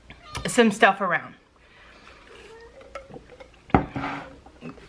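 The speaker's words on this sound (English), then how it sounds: "The cat's in here, so if you hear her meowing," A cat meows indoors, a short call heard after a person speaks, followed by light clinking of household items nearby.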